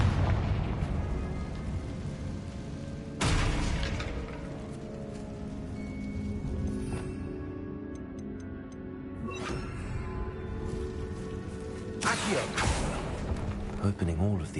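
Confringo spell blasts in Hogwarts Legacy, set in a tomb, give several loud booming bursts with rumbling tails over a continuous game soundtrack.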